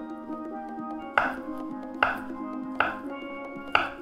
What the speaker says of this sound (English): You just chop it a couple times